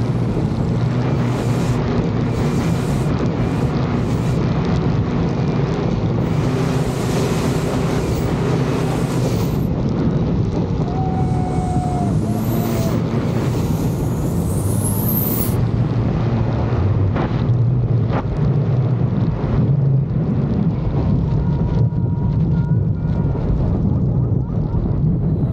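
Thai longtail boat running 50 PSI of boost races at speed across the water, its loud engine roaring steadily and close throughout amid heavy wind buffeting, with brief higher whines overhead.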